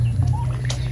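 A turkey gobbles close by, a brief burbling call over a steady low hum, on a small poultry farm where turkeys forage on grass.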